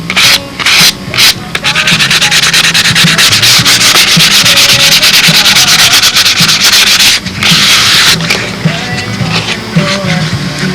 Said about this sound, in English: whatever gap is still left here, just lightly sand it